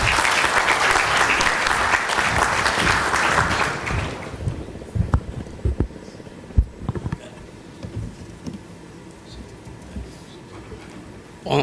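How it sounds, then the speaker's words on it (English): An audience at a conference applauds the Chief Minister with strong, dense clapping for about four seconds, then it breaks into a few scattered claps and thumps before a voice begins. "A round of applause for our Chief Minister."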